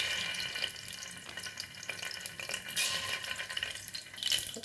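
Mustard seeds, cumin and ginger garlic paste fry in hot oil in a pan, a faint crackling sizzle with occasional sharper pops and light stirring scrapes, no one speaking.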